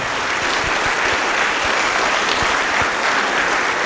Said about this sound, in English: if we could give them a big round of applause for their contributions this evening